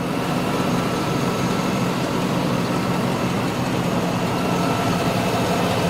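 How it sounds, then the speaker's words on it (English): A 2004 Cadillac Escalade ESV Platinum Edition idles steadily throughout, a smooth, even engine hum with no voices over it. "Engine is nice and quiet."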